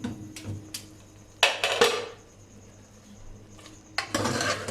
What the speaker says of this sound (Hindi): अब इसका ढक्कन खोल लेते हैं।